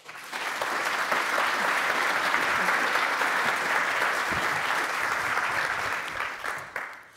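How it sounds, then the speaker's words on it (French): Sustained audience applause fills a conference hall after two speakers are introduced for a French-language talk on malware craftsmanship, loud and dense throughout before tapering off at the end. "Sous vos applaudissements s'il vous plaît"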